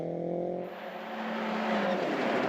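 Rally car driven flat out on a gravel stage at Rally Canterbury, New Zealand, its engine note rising and then roaring past up close, loud and alone for a couple of seconds.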